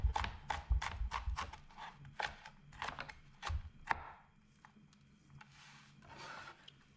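A knife chops sweet pepper into julienne on a cutting board in a kitchen, giving a quick run of sharp, close taps. A pause follows, then a few softer cuts and scraping sounds.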